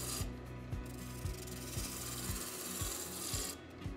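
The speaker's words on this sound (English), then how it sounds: "it's liable that your chisel's not sharp anymore and you want to resharpen it mid-project" Woodturning chisel being resharpened partway through a turning project, a steady abrasive rasping and rubbing with evenly repeating strokes, close and continuous, no talking.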